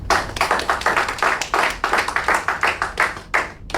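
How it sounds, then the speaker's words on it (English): Small audience at a Toastmasters-style meeting clapping: a dense, brisk round of applause, close and steady for a few seconds without talk. "A big round of applause for Raza."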